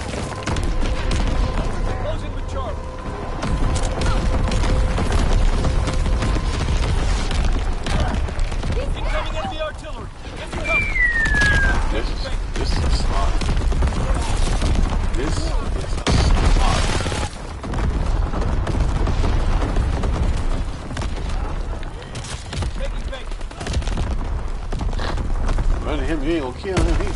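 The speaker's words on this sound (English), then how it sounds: "Incoming enemy artillery." Incoming enemy artillery shells burst in a war video game, a dense run of loud booms and crackling blasts rolling almost nonstop, with a brief high whistle partway through.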